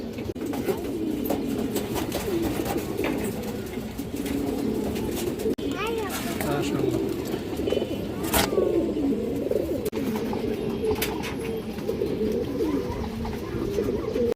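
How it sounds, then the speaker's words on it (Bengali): Pigeons coo softly and repeatedly in a low, murmuring chorus at a pigeon sale, with occasional clicks and brief noises over a steady background. "খুব সুন্দর কবুতর"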